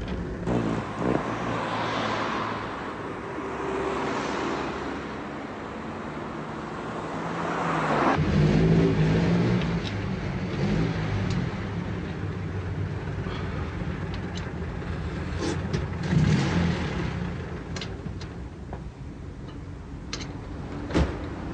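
A car fresh from servicing strains under acceleration, its low engine drone rising and falling in loud surges at close range, with road noise throughout and no talking.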